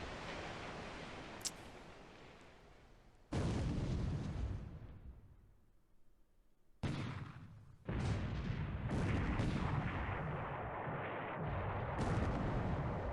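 Naval gunfire from the War in the Pacific video game, heavy booming salvos with rumbling decay, several loud bursts separated by a quieter lull, dense and close.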